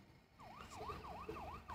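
A wailing car siren in the Car Parking Multiplayer video game, a repeating rising-and-falling electronic warble that cycles several times in quick succession, fairly faint, with no talk over it.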